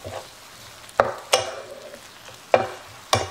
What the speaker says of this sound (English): this is all the meat I add, and I had them in the low heat. It's kind of like a low medium. I'm gonna mix it.